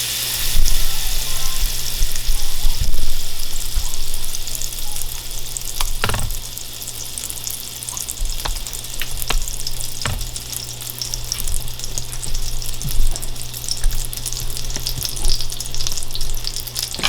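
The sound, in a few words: butter melting and sizzling in skillet for roux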